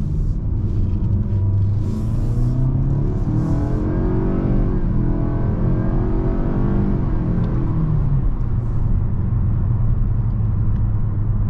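A 2023 Nissan Altima with 188 horsepower pulls away from a dead stop, its engine and road rumble rising steadily and heard continuously from inside the cabin, with no talking.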